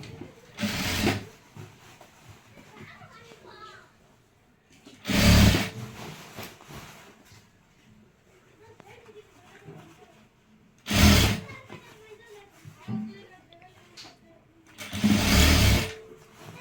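A sewing machine stitches the lining of a zip dress, running in four loud bursts of about a second each, separated by quieter stretches of handling and faint background sound.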